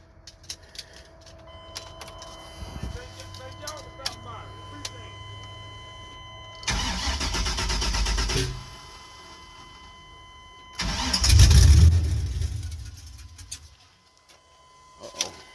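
LS-swapped car after a throttle body and intake change, the starter cranking in two long loud bursts with the engine catching and rumbling on the second try, with background noises and people talking.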